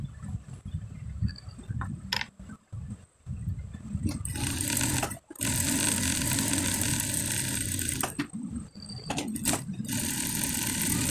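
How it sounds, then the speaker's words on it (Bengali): A sewing machine stitches a child's kabli panjabi in bursts of rapid mechanical whirring, broken by short pauses and small clicks between runs. "সামনা পার্টের সেলাইটা দিয়ে দিলাম, তারপরে দিতে হবে ব্যাক পার্টেরটা সেমভাবে।"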